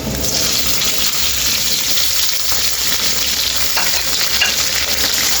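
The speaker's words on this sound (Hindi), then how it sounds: "अब हम डाल रहे हैं इसके अंदर टमाटर।" Steady loud sizzling and frying as tomatoes go into onions browning in a pan for an aloo matar tinda sabzi, with light stirring scrapes throughout.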